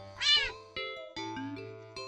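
A house cat meows repeatedly, one higher drawn-out cry followed by several shorter tonal meows in quick succession, close and clear against a quiet room.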